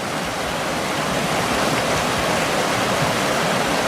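A shallow river rushes over rocks in a steady, loud, broadband roar that stays constant throughout, close by and with no talk.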